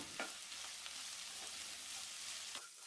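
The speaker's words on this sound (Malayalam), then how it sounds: "അത് ഇതുപോലെ നീളത്തിൽ അരിഞ്ഞ് ചേർത്ത് കൊടുത്തിട്ട് നല്ലപോലെ ഒന്ന് വഴറ്റിയെടുക്കണം" Sliced onions sauté in hot oil in a pan, giving a steady, continuous sizzle with a few light scraping stirs throughout. No voices are heard.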